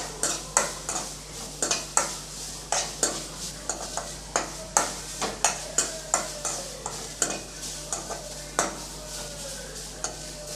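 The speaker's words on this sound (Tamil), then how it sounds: "அப்படியே ட்ரை ரோஸ்ட்டாக தான் நம்ம பண்ணிக்க போகிறோம் இது அப்படியே நம்ம கொஞ்ச நேரம் நல்லா வதக்கி விட்டுக்கலாம்" Grated coconut dry-roasts in a kadai, a spatula scraping and knocking the metal in a brisk, regular rhythm over a faint background crackle, loud and close.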